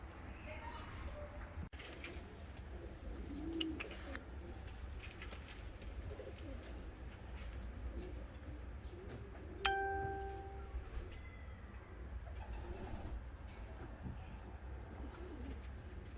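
Low, soft cooing of fancy ornamental pigeons runs throughout over a steady background hum, with occasional faint chirps and a brief clink.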